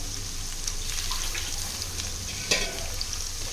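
Ivy gourd fries in a pan with a steady, dense sizzle heard close and continuously, broken once by a brief sharp clink of stirring.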